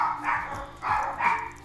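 Puppies barking in short yappy bursts, two main clusters of overlapping barks and yips at moderate loudness, close by.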